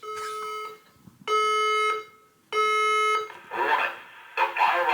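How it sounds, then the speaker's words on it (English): Fire alarm system in a building sounding in repeated long electronic tones, each steady blast followed by a pause, with a recorded announcement voice breaking in near the end. "So there's the alarm anyhow."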